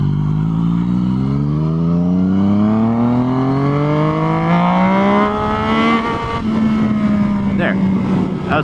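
Yamaha FZ-09 motorcycle with a quick shifter revving hard into a power wheelie, its engine note climbing steadily, close and loud, then easing briefly before picking up again.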